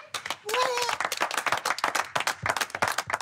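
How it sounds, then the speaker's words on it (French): Restaurant staff applaud themselves, a lively burst of many hands clapping close by, dense and irregular throughout with a brief voice near the start. "Donc on peut s'applaudir."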